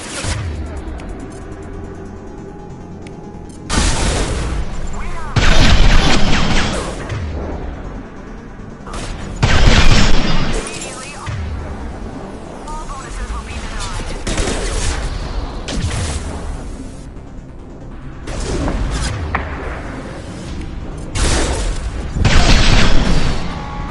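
Gunfire and explosions from the video game Mass Effect 2, with loud booms and bursts of shooting over a constant battle din, the heaviest blasts landing at irregular intervals throughout.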